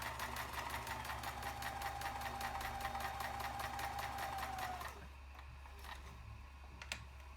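A Kenmore zig-zag free-arm sewing machine runs a straight stitch through pocket fabric with a steady, rapid needle clatter and motor hum for about five seconds, then stops, leaving faint handling clicks.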